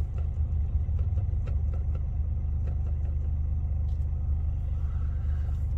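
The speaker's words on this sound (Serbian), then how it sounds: "Evo, sad auta naišla od tamo." Cars pass on a busy road in England, a continuous low rumble of nearby traffic with engines droning steadily and no voices.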